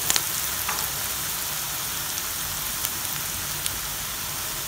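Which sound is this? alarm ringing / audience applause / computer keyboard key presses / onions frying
onions frying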